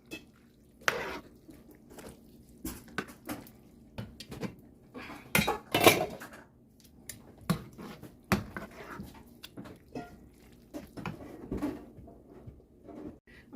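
A spoon scrapes and clanks against a pot while stirring browned beef and macaroni noodles together, giving irregular metallic knocks and wet scraping at close range, with quiet gaps between strokes and no talking.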